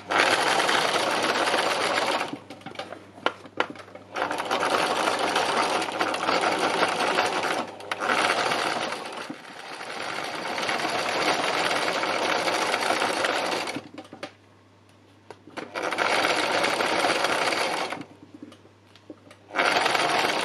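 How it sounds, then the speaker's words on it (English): Sewing machine doing free machine embroidery on scrunched fabric: loud, fast mechanical stitching in long continuous runs, broken by short pauses where the motor stops, close and with no talking. "I can go in and add more free machining to this"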